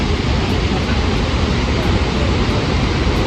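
Iguazú Falls roaring at Devil's Throat in Argentina, a loud, dense, unbroken rush of falling water close by, steady throughout with no pauses.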